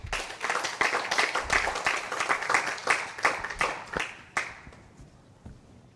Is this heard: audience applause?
yes